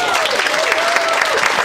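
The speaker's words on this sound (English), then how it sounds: "Please give a big round of applause" A studio audience at a TV chat show claps at the close of the programme, a brief, full burst of applause with crowd noise.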